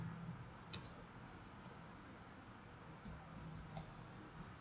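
Sparse keyboard clicks while typing a name into CAD drafting software, a few quick keystrokes spaced across a quiet room with a faint background hum and no talk.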